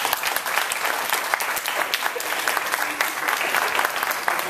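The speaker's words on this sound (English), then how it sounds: "I want you to give a round of applause," Steady applause from an audience of high school students, dense overlapping claps sustained at even loudness throughout with no voices on top.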